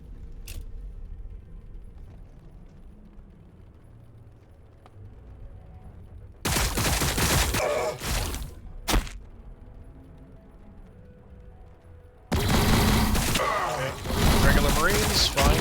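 Bursts of gunfire in a Warhammer 40,000: Battlesector battle between Blood Angels and Tyranids, loud crackling volleys around a quiet stretch, with a voice talking over the action.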